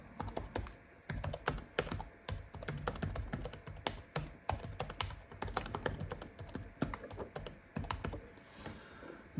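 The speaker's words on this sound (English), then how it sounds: "So we'll do the keyboard test." Rapid typing on the keyboard of an Acer TravelMate 4230 laptop, close and crisp, with irregular bursts of key clicks and brief pauses, running alone without talk.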